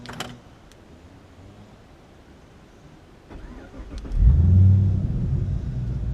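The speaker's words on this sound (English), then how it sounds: "Let's try the remote start." Pontiac G8 engine turning over by remote start and settling into a steady low idle rumble, heard from inside the car after a faint click and brief whir.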